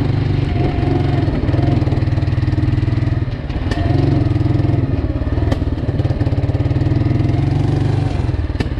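An engine idles roughly nearby, not burning its fuel fully, with a loud, uneven chugging pulse, briefly dropping before the steady rumble resumes.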